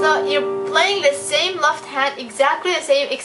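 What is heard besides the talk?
No everyday noise stands out behind the speech.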